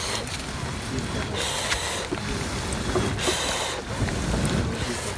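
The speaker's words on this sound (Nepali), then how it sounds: "नाइट क्याम्पिङ जस्तै पानी परिरहेछ बाहिर" Rain falls steadily on a tent at a jungle camp at night, a continuous loud wash of hissing noise with gusty swells and no clear separate drops.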